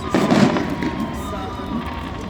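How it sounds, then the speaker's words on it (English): Fireworks burst behind a speedway after a midget car race at Owosso, a loud cluster of bangs and crackles up front, then a rumbling, echoing tail over the crowd. "As the fireworks go on behind us here"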